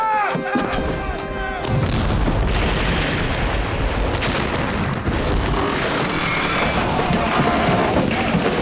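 Naval cannons aboard a period sailing warship fire in a heavy, continuous barrage of deep booms, with roaring blasts and crackling debris filling the scene and shouted voices briefly audible at the start.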